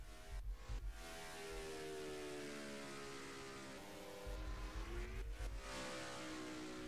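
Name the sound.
race car engine on a timed lap at Kansas Speedway, racing video game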